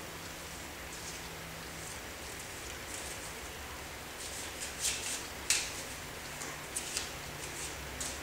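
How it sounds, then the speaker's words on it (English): Steady rain falls outside, a continuous soft hiss with scattered faint drips and ticks. "the rain is coming down."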